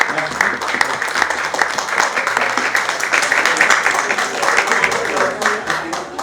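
A crowd at a formal award gathering claps in a dense, sustained burst that stays loud and even for several seconds. No voices stand out over it.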